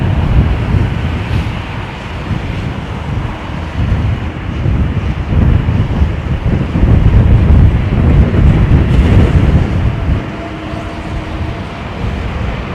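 Strong, steady wind buffets the microphone at London Heathrow Airport, a loud, continuous rumbling roar that swells and eases slightly without letting up.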